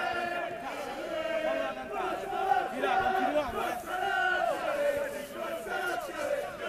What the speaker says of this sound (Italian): un nutrito gruppo di tifosi, lo potete sentire, è venuto a sostenere la Lazio di Alessandro Benedetti